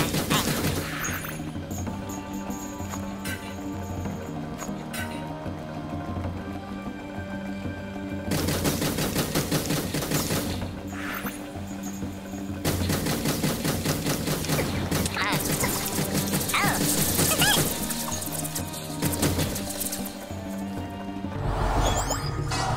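Rapid automatic gunfire from the blue gun in the video game Jak 3, in repeated bursts with brief pauses between them, loud and close, with some game sounds mixed in.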